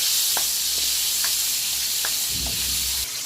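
Sliced onions dropped into a hot pan for pork ribs caldereta, giving a steady loud sizzle and hiss with a few soft clinks of a utensil stirring.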